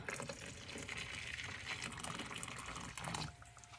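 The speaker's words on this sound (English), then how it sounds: "I'm going to take my water and I'm going to pour it nice and slow." Water pours slowly into jello mix in a bowl, a soft steady trickling stream lasting over three seconds before it tapers off, close and quiet.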